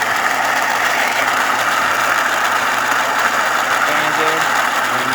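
A Saeco Synthia espresso machine's built-in grinder runs steadily for the whole stretch, a loud, continuous mechanical whir with a rough buzzing edge that feeds ground coffee toward the brew unit.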